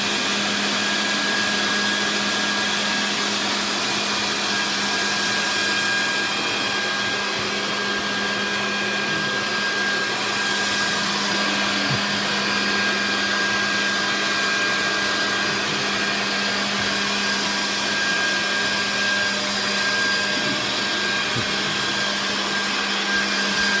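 Steady, loud rush of a high-speed air jet from a blower used in a flight-theory demonstration, a continuous broadband roar with a low hum, unbroken for the whole stretch with no talking.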